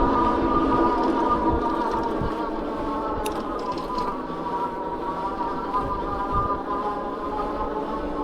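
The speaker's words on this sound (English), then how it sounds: "I'll let you listen to the motor. Sounds very similar to what I did on throttle." A Freedare Eden electric bike's motor runs steadily under riding, giving a continuous whirring hum with layered tones and road noise. It stays even and fairly loud throughout, with no talking.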